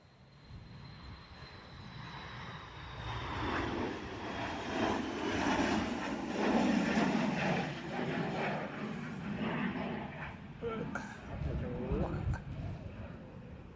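Aircraft engine roar at Dublin Airport, a broad rumble building and passing over roughly ten seconds with wind noise, and people talking in the background.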